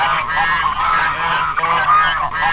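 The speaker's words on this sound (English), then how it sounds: "At last, he came to a great swamp where the wild ducks lived." A noisy flock of waterfowl honks and quacks continuously, loud and close, overlapping calls with no pauses.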